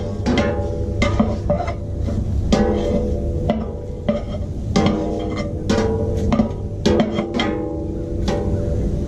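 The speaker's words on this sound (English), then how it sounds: "Just want to stir them, saute them a little bit till they get translucent." Onions being stirred with a wooden paddle in a large pot of Brunswick stew, giving repeated scraping and knocking strokes over a steady low hum, close and fairly loud with no talking.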